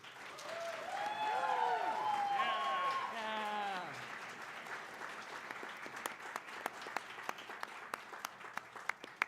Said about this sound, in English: So big round of applause for all of you.